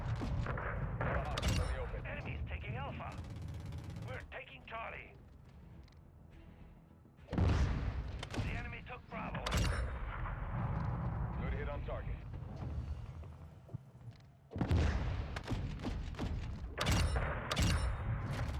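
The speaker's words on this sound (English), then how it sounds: "Damn, this gunship is pretty fun still" Heavy gunship cannon fire booms in Modern Warfare 2, with repeated loud blasts and rumbling impacts arriving in bursts separated by quieter gaps, while a voice talks over the action.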